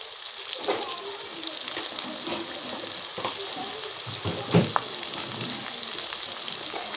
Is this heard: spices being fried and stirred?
yes